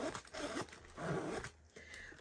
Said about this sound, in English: Oh, that zipper.